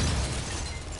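A bomb going off in the survival horror game The Evil Within, heard as a single short, muffled, low-heavy blast.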